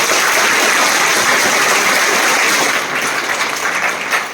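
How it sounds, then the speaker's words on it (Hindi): A crowd claps loudly and continuously for a few seconds, dense and steady with no voices standing out. "एक बार जोरदार तालियां अपने लिए जरूर बजाइए"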